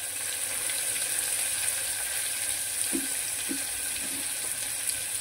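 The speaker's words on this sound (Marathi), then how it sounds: "कांद्याला थोडंसं पिंक करून घेऊया मैत्रिणी" Chopped onion frying in a pan for vegetable tikki and pulao gives a steady, soft hiss throughout, with a few faint stirring knocks partway in and no talking.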